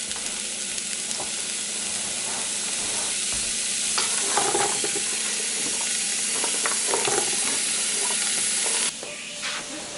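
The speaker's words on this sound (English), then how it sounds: "while the sausage is cooking" Sausage browning in a Dutch oven gives a loud, continuous sizzle and hiss with scraping stir strokes midway, close and unbroken, no talking.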